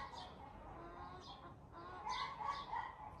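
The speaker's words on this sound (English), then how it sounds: "it seems like the chickens are not actually going to stop" Chickens cluck faintly outdoors in a steady series of soft calls over low background noise, rising slightly near the end.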